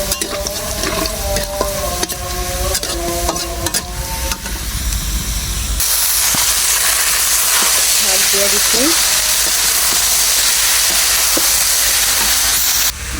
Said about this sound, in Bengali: শুকনো মরিচ দিয়ে দিলাম সুন্দর করে লাল লাল করে ভাইজা